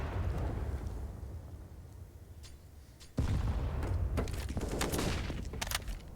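Gunfire rattles in a CS:GO match on the Vertigo map, with scattered sharp shots in the first half, then a sudden louder burst of rapid fire and booming shots filling the second half.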